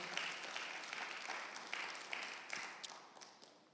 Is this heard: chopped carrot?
no